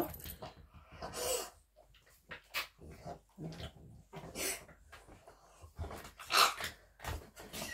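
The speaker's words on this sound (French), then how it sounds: "mon chien fait des drôles de bruit" A dog makes odd snuffling, huffing and whimpering noises in short irregular bursts, close by, with quiet gaps between them.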